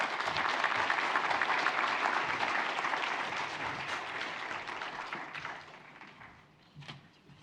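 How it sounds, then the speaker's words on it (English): Audience applause after a talk on post-radiation fibrosis and trismus, sustained clapping from a moderate-sized crowd that gradually thins out over several seconds, ending in a few scattered final claps. "Let's give one more round of applause for Wade, Heather, and Terry for sharing the"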